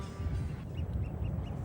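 Ducks or geese call from the Wadden Sea mudflats, a few short quacks and honks over a constant, loud low rumble of wind or surf.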